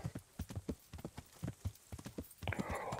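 A horse's hooves clip-clop in a steady, brisk rhythm while being ridden in Kingdom Come: Deliverance, close and distinct, with a denser rustling burst near the end.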